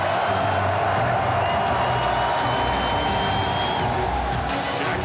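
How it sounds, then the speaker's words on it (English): A packed stadium crowd roars at a Baltimore Ravens football game against the Chiefs, a dense, continuous wall of cheering and shouting with a loud whistle rising partway through. "Oh, the crowd is getting fired up now."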